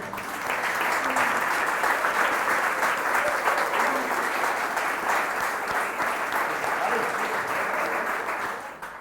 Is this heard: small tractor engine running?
no